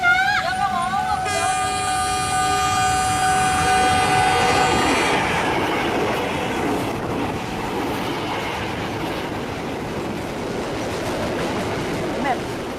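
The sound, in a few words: passing train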